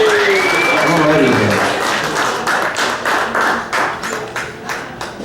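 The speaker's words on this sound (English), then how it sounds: "Give Eric a round of applause" Theater audience applauding for a musician named Eric during a pre-show at the Majestic Theater, clapping heard under a speaker's voice and fading into a few scattered claps.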